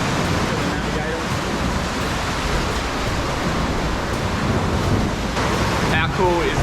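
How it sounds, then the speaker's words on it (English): Small ocean waves pushing in at Secret Beach on an Australian coast, a steady broad wash of surf and wind noise close by, with a couple of faint chirps near the end. "there's a few little waves pushing in here"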